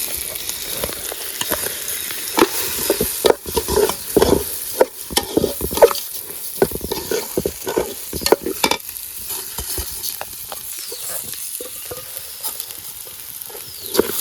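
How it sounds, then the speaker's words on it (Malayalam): Washed rice stir-fried with whole spices in a hot pan for a simple vegetable biryani: a steady sizzle runs throughout, broken by repeated scraping strokes of a spoon against the pan, close and clear with no voices. "അരിയിട്ടൊന്ന് വഴറ്റേ കേട്ടോ. നേരത്തെ കഴുകി വെച്ച അരിയാണ് കേട്ടോ."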